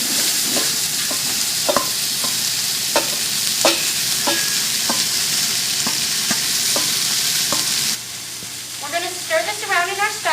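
Diced onion, celery and carrots frying in bacon grease in a stock pot, loud close sizzling with repeated scraping stir strokes, then the hiss drops and a voice talks over it.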